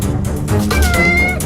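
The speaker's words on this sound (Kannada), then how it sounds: "ಬೆಕ್ಕು ಕಣೆ." A cat meows loudly and close, two drawn-out, rising cries in quick succession, alone with no talk.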